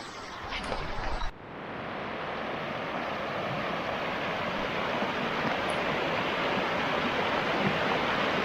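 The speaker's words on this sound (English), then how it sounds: "A nice rushing creek that's deep that we can't get across to get closer to the waterfall." Continuous broadband roar of a deep rushing creek in the Shawnee National Forest, steady and full, preceded by a brief rustling handling noise at the start.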